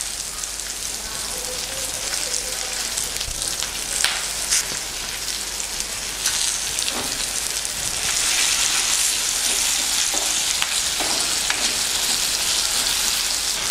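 Green chillies and dried red chillies frying in a pan for curd brinjal curry, a continuous crackling sizzle with scattered pops and occasional utensil knocks, moderately close and steady throughout.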